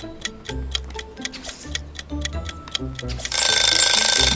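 Steady ticking of a countdown timer inside a Roblox Spider-Man obstacle course game, a regular tick-tock pulse over game music, shifting to a louder, brighter burst near the end.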